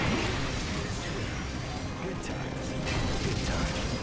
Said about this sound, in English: Oh, the grinder traps are back.